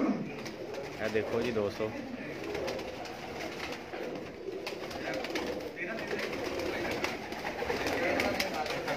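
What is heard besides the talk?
Lakha pigeons cooing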